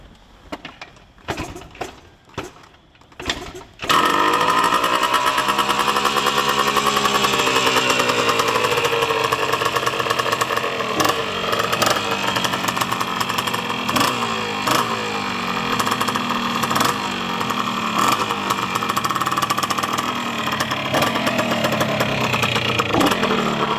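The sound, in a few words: 1977 Yamaha IT175 motorcycle engine idling after cold start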